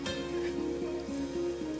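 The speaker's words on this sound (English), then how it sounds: "He kind of stares up at the rain that's currently battering down." Rain pours down steadily in a fantasy-city setting, a constant wash of hiss beneath sustained musical tones that run through the whole moment.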